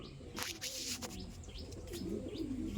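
Red checker indigo pigeons at a home loft give soft, low coos and a few chirps, faint and close, with light rustling and a brief flutter.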